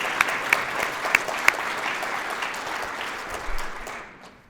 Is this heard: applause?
yes